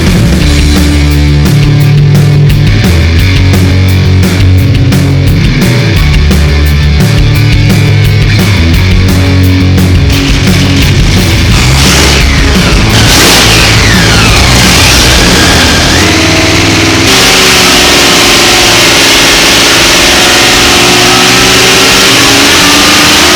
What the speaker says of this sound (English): We're going to be dynoing one of our MB850 marine supercharged motors today.